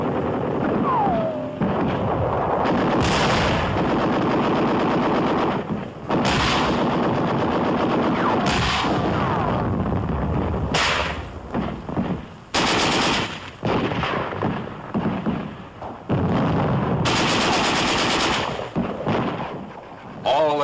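Gunfire rings out in a war-torn German city in 1944, captured in an archival newsreel during street fighting against snipers: loud, sustained bursts of machine-gun and rifle fire with short gaps and heavy, rolling reports.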